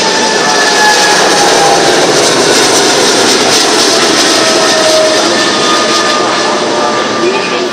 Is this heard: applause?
no